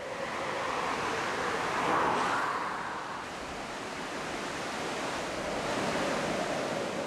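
Steady roaring Atlantic gales and rushing sea surf in the Scottish Highlands blend into a continuous broadband wash, swelling slightly around the second second before settling into a constant stormy roar.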